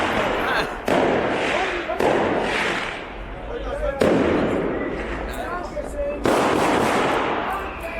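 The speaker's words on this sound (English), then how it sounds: "These fireworks are amazing." German fireworks exploding in a series of loud bursts, each with a sharp onset and a crackling tail, about five or six blasts spaced a second or two apart.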